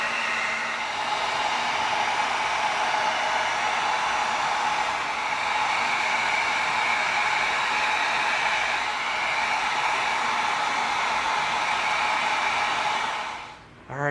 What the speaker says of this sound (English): Let's bring in our heat gun and let's seal it.